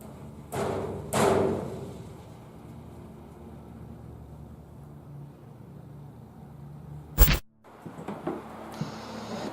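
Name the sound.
banging on a bed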